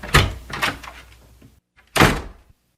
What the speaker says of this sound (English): The door of the office opened, and Belinda came in.